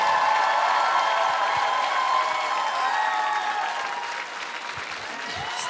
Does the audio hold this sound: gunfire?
no